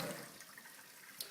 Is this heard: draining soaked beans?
yes